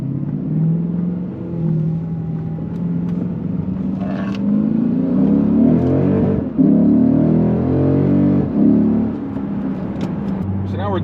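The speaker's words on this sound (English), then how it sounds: "We're doing about 55-60 miles an hour here on Route 539 in Tuckerton, New Jersey." A Lexus GS-F on RR-Racing coilovers cruises at 55-60 mph along Route 539 in Tuckerton, New Jersey. A steady, loud engine drone and road rumble swell briefly and settle again.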